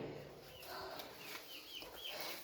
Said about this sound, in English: He's turned out to be a damn good little rooster.